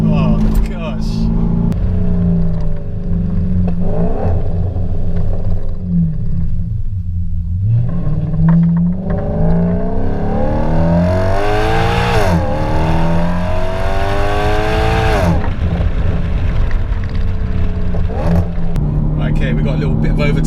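Audi S5 4.2 V8 Quattro with straight pipes through the full exhaust, accelerating loudly with rising revs and rumbling engine note heard from inside the car, while people talk over it throughout.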